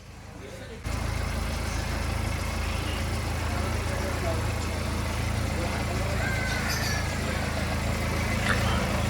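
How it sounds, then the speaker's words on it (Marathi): A car engine idles steadily while the vehicle is being parked, a constant low rumble starting abruptly after a brief quieter moment and running evenly throughout, with faint background sounds on top. "आता गाडी मी जागेवर लावतो जरा"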